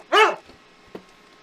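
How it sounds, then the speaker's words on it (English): A single close, loud dog bark followed by a short faint yip, with quiet room tone between and no talking. "There was a Doge barking at me."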